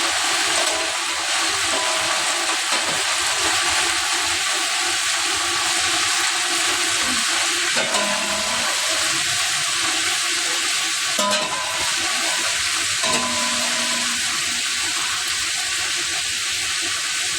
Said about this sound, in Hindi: चिकन को भी इसमें करना है फ्राई थोड़ा सा इसी फ्राई में।